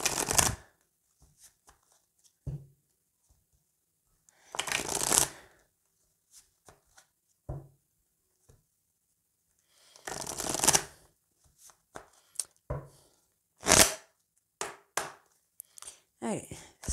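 Oracle cards for a tarot-style reading are shuffled in several loud, riffling bursts separated by pauses, with scattered lighter card taps and handling noises close by; no voices.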